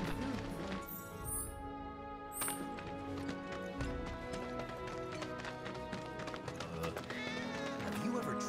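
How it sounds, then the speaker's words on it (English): In Final Fantasy VII Remake, a cat meows a couple of times in quick, high calls over busy game music and rhythmic footstep-like clatter. "Cat? Did you hear that just now?"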